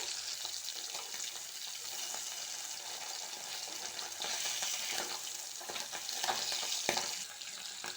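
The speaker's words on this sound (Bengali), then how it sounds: "এ কটা মাছ আবার তেলে ছেড়ে দিয়েছি। দেখুন অনেকটা তেল ছেড়েছে।" Tangra fish frying in hot oil in a pan, a steady crackling sizzle with scattered sharper pops and spatters, moderately loud and close, with no talking over it.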